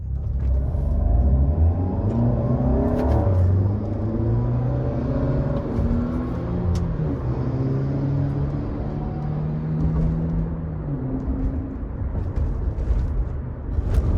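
A Lexus NX accelerating from low speed, its engine rising in a steady drone with shifting gear tones over road rumble from inside the cabin, loud and continuous with no talking.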